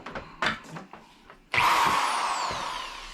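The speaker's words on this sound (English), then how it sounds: "Let's drill some holes in that, and I'll put some screws in there." Power drill boring holes in a wooden board while framing for a shower valve and whirlpool bath in a bathroom renovation: faint handling knocks, then a loud, sustained whirring drill run that continues steadily to the end.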